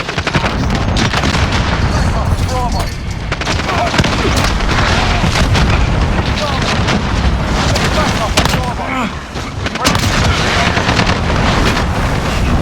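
Grenade blasts and gunfire in the Modern Warfare shooter, a dense, loud, continuous barrage of booms and shots with no pauses, and faint voices mixed underneath.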